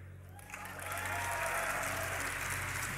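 A large crowd at a League of Legends esports tournament, DreamHack Winter 2012, swells into loud cheering and applause after a brief quiet start, sustained and roaring for the rest of the moment.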